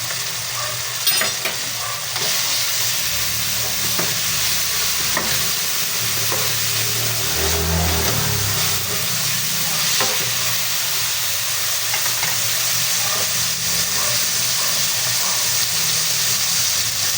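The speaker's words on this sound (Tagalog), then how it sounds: "Lalagyan po natin ng 1 kutsarang alamang." Tomatoes fry in a pan as a spoonful of fermented shrimp paste is added and stirred in, giving a steady loud sizzle with scattered scraping and clinking spoon strokes throughout, no voices.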